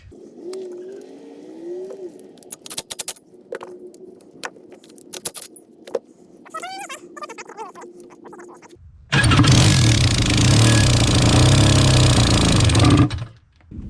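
A jet ski engine with two cylinders turns over and catches midway, then runs as a loud, steady, rough drone before cutting off. Quieter clicks and fiddling come before it starts.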